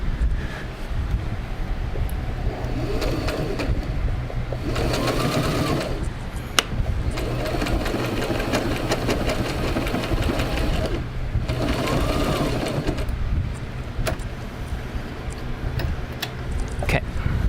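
A sewing machine stitches two pieces of fabric together, running in a fast, steady mechanical chatter that swells in several bursts over a constant low hum, close to the mic.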